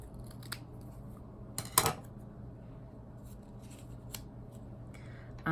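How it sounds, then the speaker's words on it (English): Scissors snip through paper while a collage is cut, giving soft, close crisp cuts and rustling, with one sharper burst of snipping partway through; no one talks. "And look how I'm turning my paper and not the scissors so much."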